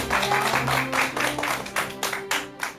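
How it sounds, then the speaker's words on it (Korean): Studio audience applauding to welcome a guest onto a Korean lecture talk show, a short burst of brisk clapping close by that thins toward the end. "큰 박수로 맞아주시기 바랍니다."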